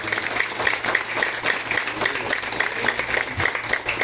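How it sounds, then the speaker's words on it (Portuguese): A congregation at a church service applauds steadily, a dense wash of many hands clapping at a constant level, with faint voices mixed in. "Palmas para Deus."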